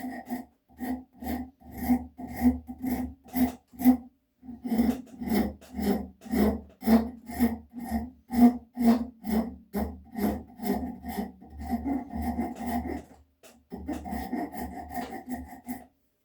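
A hand file chamfering the edge of a wooden axe handle on a vintage Plumb 4.5 Dayton axe, rhythmic rasping strokes repeated steadily and close, with a brief pause midway and a short break near the end.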